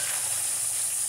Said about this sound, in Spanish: friendo un rico pescado